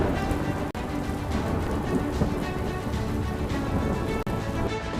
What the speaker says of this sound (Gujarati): ભાવનગરમાં વરસ્યો મુશળધાર